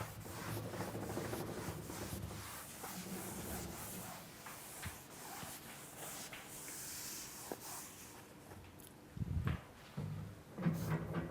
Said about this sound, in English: So I can now erase this.